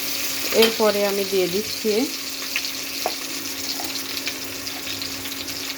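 Whole cumin and spices frying in hot oil make a continuous close hiss and sizzle, while a voice speaks briefly over it near the start.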